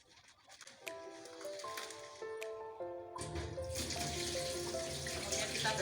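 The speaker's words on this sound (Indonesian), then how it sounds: "kemudian kita basahi tangan, kemudian pencet sabun, menggosok dari telapak tangan, punggung, sela-sela jari," Tap water runs steadily into a sink while hands are wetted and washed before handling a baby, starting quiet with faint clinks and growing to a fuller, louder splashing stream.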